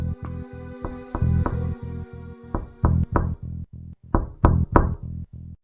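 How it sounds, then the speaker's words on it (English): A series of sharp, hollow knocks sounds close on a wooden door in irregular bursts of two and three, with short ringing decays and brief gaps between the groups. "Instead, something knocked."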